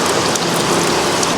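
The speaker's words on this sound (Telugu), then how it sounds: "మొత్తం వర్షం పడుతుంది మామ." Heavy rain pours down in a village, a dense loud hiss of countless drops striking surfaces, steady and unbroken throughout with no voices.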